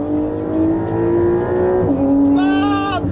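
A Porsche 911 engine revving hard on a downshift, a loud sustained rising engine tone that dips and then climbs again sharply, heard from inside the car.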